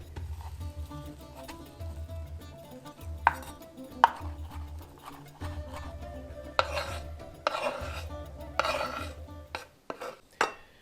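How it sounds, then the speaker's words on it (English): A knife chops fresh parsley on a cutting board in a home kitchen, close and crisp, coming in irregular bursts of quick strokes separated by short pauses. "So we're going to chop up the parsley now."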